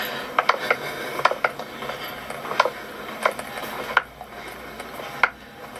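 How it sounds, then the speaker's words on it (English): A freight elevator's mechanism runs with sharp ratchet-like clicks and clanks, irregular and fairly close, over a steady mechanical hum, with no talking. "This is the freight elevator."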